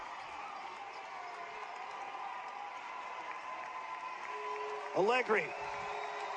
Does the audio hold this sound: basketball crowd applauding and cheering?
yes